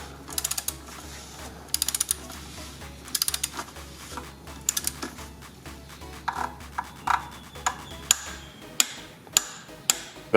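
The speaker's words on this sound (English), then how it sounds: "once you hear that click, to immediately stop" A torque wrench tightens the oil drain plug on a Dodge Journey 3.6 V6. Quick ratcheting clicks come in repeated bursts, followed by a few single sharp clicks, close and fairly quiet with no talk.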